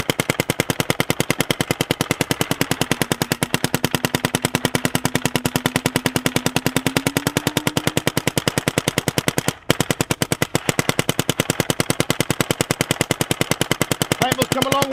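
A paintball gun fires continuously in a rapid, even stream of sharp shots for about fifteen seconds, loud and close, with a brief break partway through and faint voices underneath.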